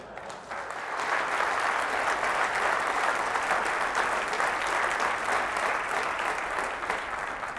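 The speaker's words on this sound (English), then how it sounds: "The applause was from those who were here in those fine moments of glory" A congregation breaks into sustained applause during a recorded sermon, a thick, even wash of clapping that swells in after a brief softer start and holds steady without talk.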